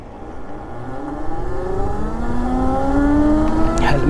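An OLA Roadster X+ 4.5 kW electric motorcycle pulls away, its motor whine rising steadily in pitch as it accelerates, close and clear, with faint road and wind noise beneath.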